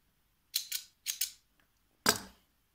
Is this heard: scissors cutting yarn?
yes